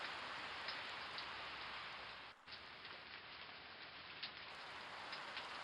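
Steady rain falls continuously, a dense even hiss of drops on surfaces with a few brighter patters, fairly quiet and with no voices.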